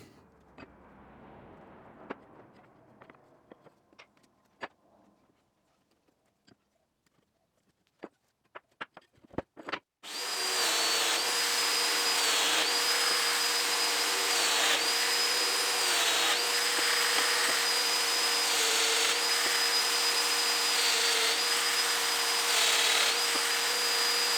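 A domino joiner cuts mortises in reclaimed timber for a mid-century modern chair. A few sharp knocks and taps come first, then the tool starts and a loud, steady motor whine with cutting noise runs without a break to the end.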